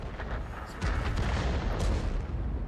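A tank cannon fires in the World of Tanks video game, a heavy, dull boom swelling out of a constant low battle rumble with no speech over it.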